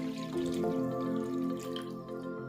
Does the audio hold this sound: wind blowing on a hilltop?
no